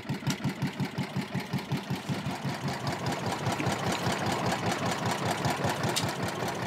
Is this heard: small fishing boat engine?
yes